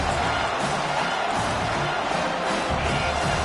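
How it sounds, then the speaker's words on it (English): A home crowd roars steadily at a Washington vs TCU college football game as the defense faces third down, a dense, continuous wash of cheering and stadium noise filling the stands. "Here comes this home crowd as the defense tries to get off the field on third down"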